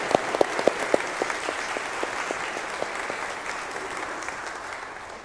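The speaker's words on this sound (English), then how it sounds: "would you please give them a round of applause as a welcome?" A church congregation at a Sunday service gives a sustained round of applause as a welcome, with dense steady clapping filling the room and a few sharper claps standing out early on.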